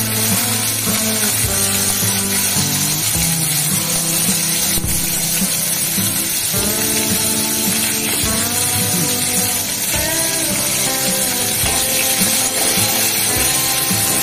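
Cumin, bay leaf, garlic, onion and green chilli fry in a pan, giving a loud, steady sizzling hiss that runs without a break and carries no talking.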